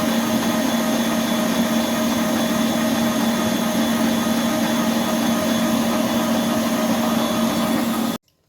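An electric hand mixer whirs steadily as it beats sugar into a cream mixture for a homemade dessert, a loud, even motor drone with a high tonal hum that runs unbroken for several seconds and then cuts off abruptly.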